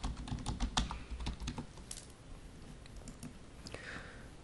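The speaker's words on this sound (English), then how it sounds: "you type in your project name" Fingers tap on a computer keyboard, a quick run of close clicky keystrokes that thins out into scattered taps, with no voices.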